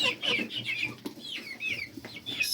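Chickens, including a naked-neck breed, cluck and chatter close by, a busy overlapping run of short calls and squawks with no talking.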